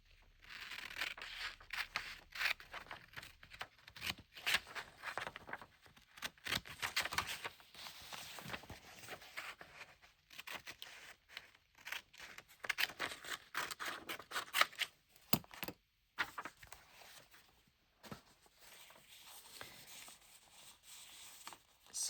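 Paper is cut with scissors at a desk while working on a Hobonichi Cousin Avec planner page: repeated crisp snips and rustles in uneven bursts, close and fairly quiet, with short pauses between cuts.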